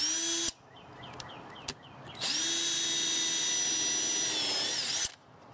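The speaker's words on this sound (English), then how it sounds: "a quicker way to do this is just to screw these pieces together" Power drill driving short screws from the underside to join 3D terrain pieces for Runewars Miniatures, two bursts of whirring, a short half-second run then a steady three-second run, close and loud.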